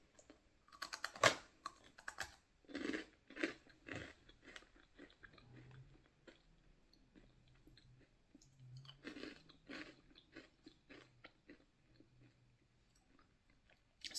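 Close, quiet crunching and chewing of crunchy pillow-shaped snacks with an icing filling, coming in irregular bursts of bites with softer pauses between.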